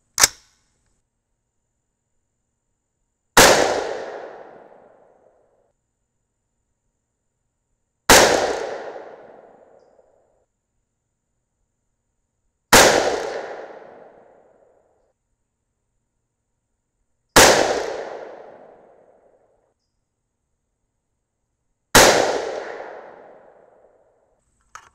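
Six loud, sharp 6mm rifle shots firing 90 grain Hornady ELD-X handloads, each a hard crack trailing into a short decaying boom, spaced roughly four to five seconds apart with silence between.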